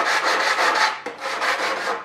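Coarse 80-grit sandpaper rubs in quick rhythmic strokes while deburring a metal part for an experimental Bearhawk airplane build. The scratching is close and continuous, with a short break midway.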